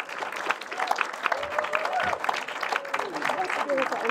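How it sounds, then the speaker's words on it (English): Audience applause at an awards ceremony for a festival prize, moderate clapping and crowd noise with voices talking over it, fairly close and uneven throughout. "A massive applause."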